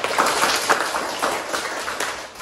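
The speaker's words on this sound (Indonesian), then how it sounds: "tepuk tangan untuk kelompok 4" Applause for a student group after its presentation in an Indonesian classroom: short, moderately loud bursts of clapping from a small audience, uneven and brief.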